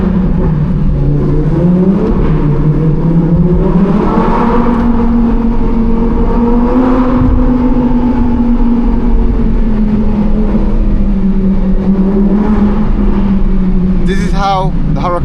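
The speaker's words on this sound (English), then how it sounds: "How the Huracan sounds now." A Lamborghini Huracan Performante on its standard exhaust, a loud engine note rising and falling through revs close by, with a voice talking over parts of it.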